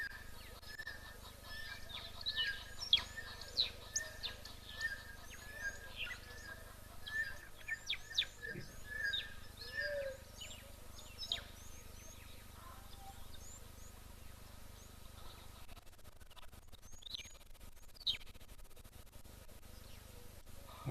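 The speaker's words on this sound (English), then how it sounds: "You can hear the guinea fowl in the background." Helmeted guinea fowl call from a distance at a waterhole, repeated squeaky, grating notes mixed into a steady chorus of other birds and outdoor ambience.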